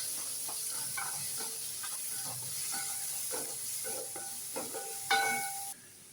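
Ginger, garlic and green chilli paste sizzles in a frying pan while a spoon stirs and scrapes in repeated strokes, a steady hiss beneath the clinks, ending with a louder scrape before the sizzle cuts off.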